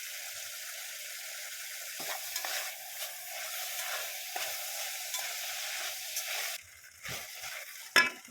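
Samyang instant noodles stir-fried in a pan give a steady sizzle under repeated scraping and stirring strokes, close and fairly quiet, ending in a sharp clatter. No one speaks.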